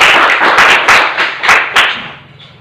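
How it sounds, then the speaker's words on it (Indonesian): A classroom of students applauds a classmate, a burst of lively clapping from many hands that builds in uneven waves and then fades away near the end. "Tepuk tangan untuk Ismail ya."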